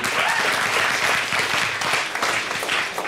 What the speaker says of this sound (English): give the guy a round of applause